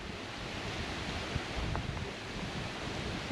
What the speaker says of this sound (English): Oh, we got the waves coming in.